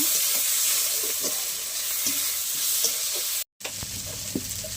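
Ground spice masala with turmeric sautéing in a pan, a steady close sizzle with scraping stir strokes every second or so, broken by a brief silent gap before the frying resumes.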